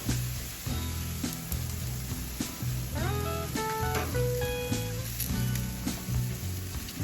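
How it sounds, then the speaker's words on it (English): Prime rib steaks and honey garlic sausages sizzle steadily on an outdoor barbecue during a blizzard, a close, continuous crackling hiss with occasional sharper pops and faint background clatter. "Prime rib steaks and honey garlic sausages on the barbecue."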